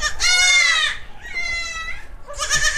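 Young goat kids on a farm bleat close by, three loud wavering cries in succession, the middle one softer, with light background noise between them.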